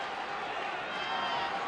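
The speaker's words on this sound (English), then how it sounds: "Now the crowd trying to get the Suns into it early." Arena crowd noise from Phoenix Suns fans in a packed basketball arena during a 1993 NBA Finals game, a steady dense roar of cheering with no breaks across the short span.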